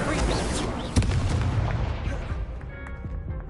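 A fire spell cast from a wand in the video game Hogwarts Legacy: a sharp burst near the one-second mark, set within a dense, rumbling battle mix of effects and voices.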